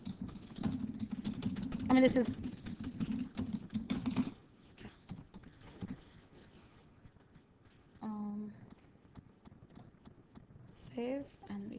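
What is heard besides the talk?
typing on a computer keyboard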